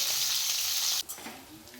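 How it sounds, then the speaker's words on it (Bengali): Jackfruit pieces fry in oil with a loud, steady sizzle that drops off abruptly partway through, followed by quieter bubbling and a few faint clinks. "একদম মাছ ভাজার মতনই এগুলো করে নিতে হবে, পুরো লাল লাল করে ভেজে নিতে হবে।"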